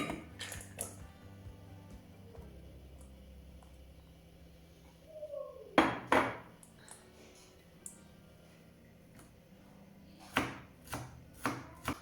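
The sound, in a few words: knife chopping wonton filling finely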